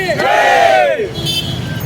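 A crowd of Shiv Sainiks in Khopoli cheering in celebration, a loud collective shout rising and sustained for about a second before breaking into scattered crowd noise.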